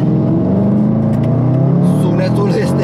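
A Range Rover SVR engine revs hard and steady, a loud deep roar with rising pitch that fills the whole moment.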